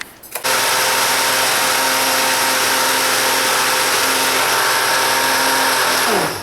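A motor grinds sugar into powder for a homemade sugar scrub, a loud, steady whirring drone starting abruptly and holding for about six seconds before spinning down.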